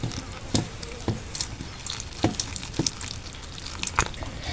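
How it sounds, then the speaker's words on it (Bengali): Jalebi batter mixed with a little turmeric water being beaten by hand, giving soft wet squishing and dripping sounds with recurring splashy strokes about every half second, close and fairly quiet. "এই যে সুন্দর করে ফেটিয়ে নিচ্ছি, কারণ যত ফেটাবেন তত ভালো হবে"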